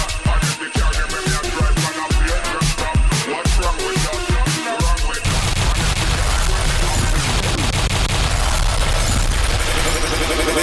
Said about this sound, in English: the gunshot means forward